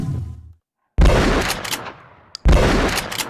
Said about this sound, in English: if I play the Fire Shotgun Player, that sounds a little better, but we want to hear them in context with all the other weapon sounds